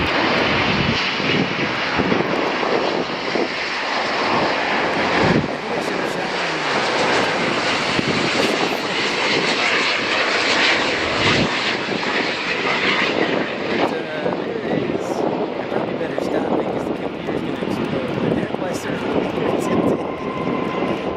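A heavy Japan Airlines Airbus A350 jet on short final approach, its engines roaring loud and steady throughout while voices talk over it.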